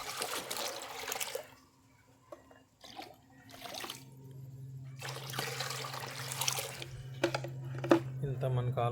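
Water poured into a tub for a betta breeding setup comes in two distinct gushing bursts separated by quieter trickles, with a low steady hum underneath.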